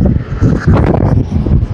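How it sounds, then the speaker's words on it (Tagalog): Strong outdoor wind buffeting a microphone, heavy low rumbling gusts that swell and ease in uneven pulses, loud and close, with no voices over it. "Malakas na yung hangin"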